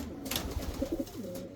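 Racing pigeons back from road training coo in a soft, close, short burst of throaty rolling calls, with a light flutter or shuffle near the start.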